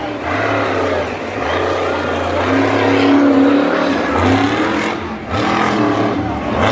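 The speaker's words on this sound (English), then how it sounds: "He's going for a donut as that engine is popping incredibly." Monster truck engine at a Monster Jam event in Salinas, roaring loud and continuous as the truck spins a donut, the faulty engine popping and sputtering, with an announcer talking over it throughout.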